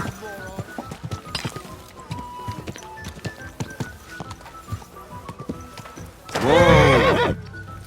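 In the video game Kingdom Come: Deliverance 2, rhythmic hoofbeats clop steadily at a gallop, then a loud, close horse whinny rings out near the end before cutting off.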